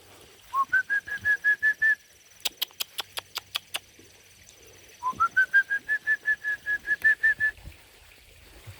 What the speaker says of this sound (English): Whistle for the chickens.